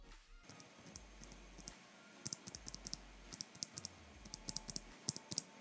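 Keystrokes on a NuPhy Air75 mechanical keyboard with brown tactile switches, a close run of soft but distinct taps in uneven bursts, quiet and without other sounds.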